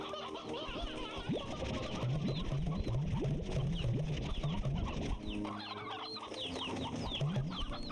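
Chickens and a rooster clucking and calling continuously in a crowded coop, many overlapping birds close by with steady busy chatter throughout.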